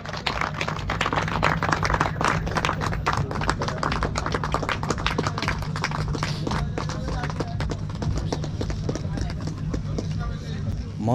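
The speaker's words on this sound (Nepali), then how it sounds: "ताली बजाते हैं।" A wedding reception audience claps together, a dense crackle of many hands sustained for about eleven seconds, with voices talking underneath throughout.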